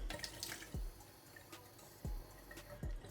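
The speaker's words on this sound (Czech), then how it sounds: "Dám k tomu lehce vody" A little water poured onto protein powder in a kitchen, quiet trickling and splashing with a few soft thuds and clinks, faint and close, no voices.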